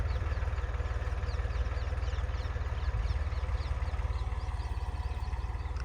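A tractor engine throbs steadily at close range with an even low pulse, pulling a planter that sows summer groundnut on 54-inch beds. It runs without a break and no one speaks.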